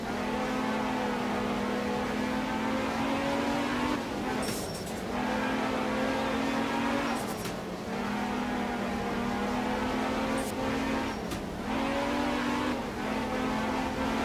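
An Opel rally car engine drones continuously while driving on snow in the video game Art of Rally, with a steady mid-pitched roar that dips and swells at a few gear changes or lifts around every three to four seconds.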